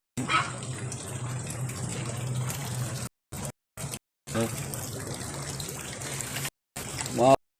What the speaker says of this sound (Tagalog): Maapaw ng tubig.